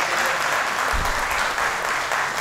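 Steady audience applause at a press conference and awards presentation in Marbella, continuous and even throughout.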